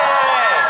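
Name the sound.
convention panel audience cheering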